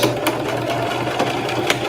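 A sewing machine stitches a wallet with a steady, continuous whirring hum and faint periodic ticks, close and fairly loud, with no talking.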